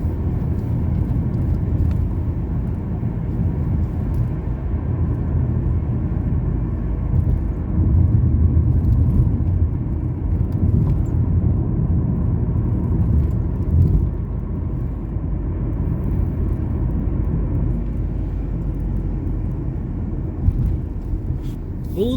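A car drives along an open road, heard from inside as a steady, loud low engine and tyre rumble that holds constant throughout with only slight swells.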